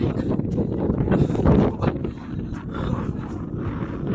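Steady wind buffeting the microphone at a beach in Doha, Qatar, a loud low rumble that swells and eases with gusts, with no voices.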